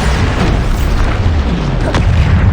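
A loud, deep booming explosion from a Bombarda spell cast in a game, a continuous heavy rumble filling the moment with a sharp burst near the end.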